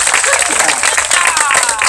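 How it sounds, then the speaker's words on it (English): Crowd applause and cheering at a Native American powwow dance competition, loud and continuous with dense clapping throughout. "Give her a round of applause."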